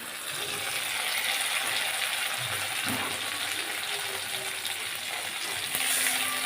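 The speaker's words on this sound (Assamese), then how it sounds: "জলকীয়াখিনিও দি দিছোঁ" Garlic and green chilies fry in hot oil for an Assamese khar dish, giving a steady, even sizzle that carries on alone without any talk.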